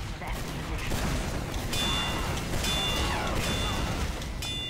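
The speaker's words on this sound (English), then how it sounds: "Crit rocket." Chaotic combat in Team Fortress 2 with a critical rocket explosion amid continuous blasts and gunfire, loud and dense, with bright metallic ringing tones cutting through.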